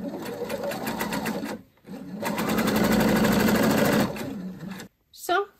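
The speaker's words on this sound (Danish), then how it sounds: "Og så syr jeg simpelthen en stikning, som bliver en pyntestikning fra bagsiden, rundt i kanten af min overlock." Overlock sewing machine stitching a decorative edge around a pocket bag, a fast close whirring hum in two bursts with a short pause between, then a brief soft sound at the end.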